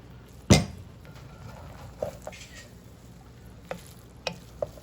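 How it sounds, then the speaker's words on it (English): Shrimp being stirred into jollof rice in a pot: a sharp metallic knock at the start, then soft scraping strokes and occasional spoon clinks over a faint low sizzle. "we're gonna throw the shrimp in right now and stir it up real good"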